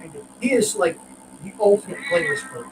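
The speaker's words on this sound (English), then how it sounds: "the kitty cat in the background's not liking the idea" A cat meows a few times in the background of an indoor room while a person talks over it, its cries rising above the voice in short wavering calls.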